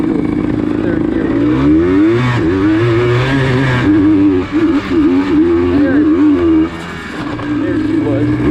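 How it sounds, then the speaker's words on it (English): A Yamaha Blaster ATV engine revs hard while climbing a hill in third gear, its raspy two-stroke note rising and falling through several loud pulls, with a voice talking over it. "let's try hitting the hill one more time. See if we can do a third gear."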